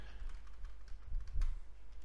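Typing on a computer keyboard while entering details into a ChatGPT-like AI tool: quick, soft irregular key clicks at moderate distance, a few louder taps near the end, with no voices over them.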